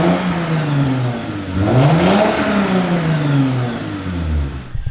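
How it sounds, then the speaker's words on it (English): A V6 truck engine revs up and back down in a loud, throaty sweep, then settles toward idle before cutting off abruptly. "it's loud enough that you can actually hear it's a V6."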